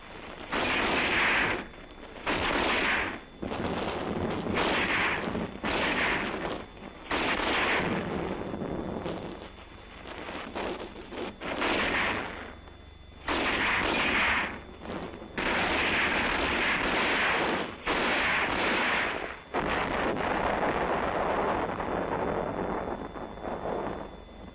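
Military blast blowing a gap in tactical barbed wire, followed by gunfire: repeated loud, booming bursts and rattling reports in rapid succession, with roaring wind-like rumble between them, close and continuous.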